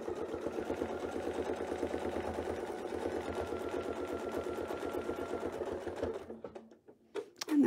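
A quilting sewing machine stitches rapidly with a Westalee Spin E Fex ruler, a steady loud mechanical chatter for about six seconds before slowing and stopping, followed by a few faint clicks and handling sounds.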